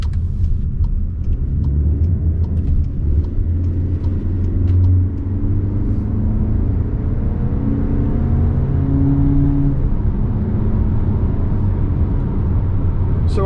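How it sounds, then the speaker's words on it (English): Cabin sound of a 2023 VW Tiguan accelerating up to highway speed, a steady low engine and road rumble with a smooth rising drone, loud and continuous inside the car, no voices. "Let's see how it does accelerating up to more of a highway speed."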